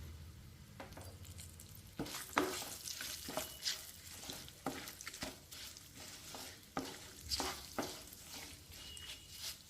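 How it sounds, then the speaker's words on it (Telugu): Four cashew nuts fry in a pan for aavakaya rice, giving a steady soft sizzle broken by repeated scraping stirs of a spoon. "ఇప్పుడు దీనిలో మనము 4 క్యాషూ నట్స్ వేసుకున్నామండి. క్యాషూ నట్స్ కూడా ఈజీగా ఫ్రై అయిపోతాయండి."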